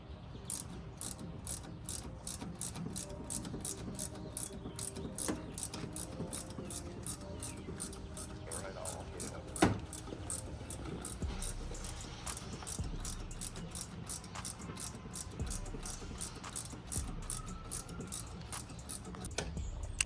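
A ratchet tightens the top shock bolt on a third-generation Toyota Tacoma fitted with Dobinsons MRR shocks: steady, rapid metallic clicking repeated throughout, fairly faint, with occasional clanks and no speech.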